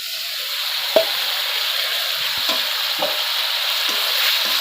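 Boiled potatoes frying in a pan for a Bengali fish curry, a steady close sizzle with a few sharp scrapes and taps of a spoon stirring them, no voices.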